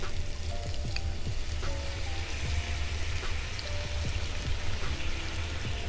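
Vegetables sizzle in a pan with browned butter, honey and thyme, giving a steady, moderately quiet crackle with scattered pops and no voices.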